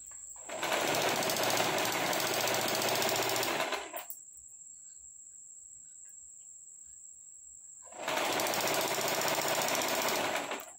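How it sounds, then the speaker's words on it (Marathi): A sewing machine stitches a straight seam through velvet fabric for a scrunchie, running in two steady, fairly loud bursts with a quiet pause between them and no talk. "आता सरळ सरळ शिलाई टाकत जायचं आहे"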